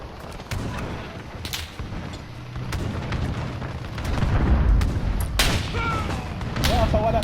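Gunfire and explosive booms from a tank in the video game Call of Duty: Modern Warfare (2019 beta), a busy run of bursts and heavy blasts throughout, with player talk in between.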